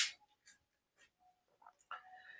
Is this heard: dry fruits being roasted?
no